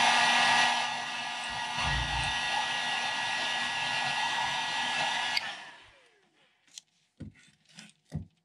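A heat gun blows a steady loud whooshing roar while setting paint on a crankbait lure in a firetiger craw pattern, then shuts off and winds down, followed by a few light clicks and handling taps.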